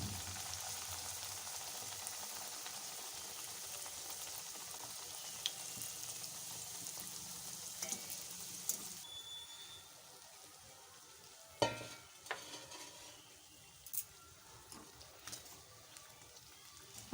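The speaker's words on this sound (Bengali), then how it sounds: "আমি এবার গ্যাসটাকে মিডিয়াম ফ্লেমে রেখে একে একে কচুরিগুলোকে ভেজে নিচ্ছি।" Chhatu kachuri deep-frying one by one in hot white oil over a medium gas flame, a steady fine sizzle with a few sharper pops and spatters.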